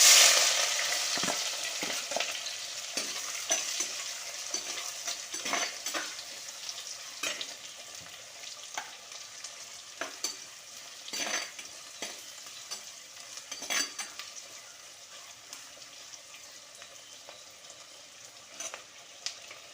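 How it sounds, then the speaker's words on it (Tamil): Small shallots and vadagam, a sun-dried seasoning ball, sauté in hot oil for a sankara fish kulambu, giving a steady close sizzle broken by repeated scraping stirs that ease off slightly toward the end; no one speaks. "பாருங்கள் வெங்காயம் வதங்கிட்டு"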